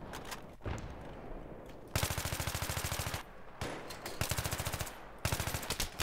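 Bursts of automatic rifle fire ring out in a Battlefield 3 team deathmatch, several rapid rattling volleys separated by short pauses, loud and close.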